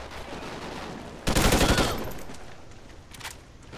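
A rapid burst of automatic gunfire in Call of Duty: Ghosts multiplayer, about half a second of close, loud shots, then fading echo and a faint later pop.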